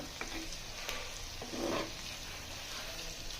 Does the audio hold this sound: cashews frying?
yes